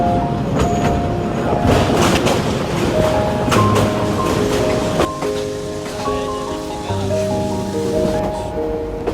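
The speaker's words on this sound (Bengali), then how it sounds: "এই যে কি সুন্দর করে ট্রেনটি ছেড়ে" A train pulls out of Kamalapur railway station, heard from on board as a loud, steady rumble and rattle with clanking and a few sustained tonal squeals from the wheels and rails.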